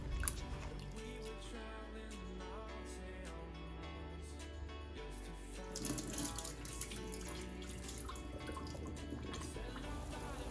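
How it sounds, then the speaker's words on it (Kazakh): Rice being washed in a bowl under a running kitchen tap, a steady stream of water splashing and sloshing throughout, with louder swirling in the second half. "Одан соң бір пиала күрішімізді жақсылап жуып аламыз."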